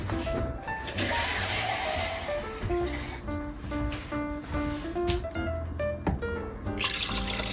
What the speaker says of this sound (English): I'm just gonna add water to cover it.